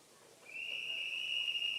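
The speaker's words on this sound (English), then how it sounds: "So, whistle blast coming up here" A single long, piercing whistle blast sounds before a springboard heat at a timbersports competition, rising out of low arena murmur and holding steady to the end.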